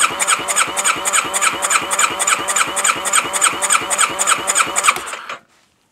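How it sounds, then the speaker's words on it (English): A Kawasaki Versys/Ninja ER-6 motorcycle engine cranks over on the starter with the throttle wide open during a compression test, giving a loud, even, rapid rhythmic chugging for about five seconds before it stops abruptly. "we're going to crank the motor for about 8 to 10 seconds and see what reading we get"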